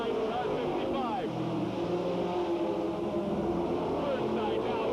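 Late model race cars roar around Hales Corners Speedway, a dense, steady engine drone with one car's pitch sweeping up and down as it passes close, constant and loud throughout while voices murmur underneath.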